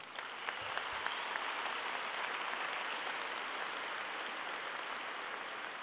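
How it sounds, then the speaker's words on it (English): A graduation crowd at Cypress Lakes High School applauds steadily, a dense, even wash of clapping that holds at a constant level with no voices standing out. "Let's give them a round of applause."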